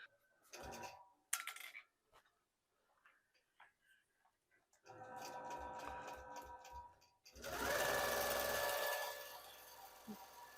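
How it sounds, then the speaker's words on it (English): An embroidery machine stitches the outline of a placemat. Scattered ticks and clicks come first, then a rapid, even mechanical stitching run, then a louder, denser whirring burst, all fairly close and with no voices. "it's going to start by stitching the perimeter of this placemat."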